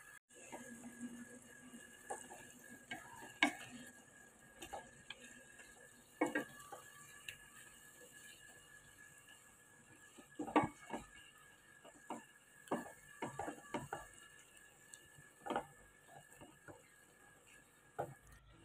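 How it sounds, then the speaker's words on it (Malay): Wild jungle fowl chicken pieces stirred in a pan during cooking, with scattered scraping and clinking of a utensil against the pan over a soft sizzle, irregular and close, with no talking. "lepas tu kita kacau-kacau"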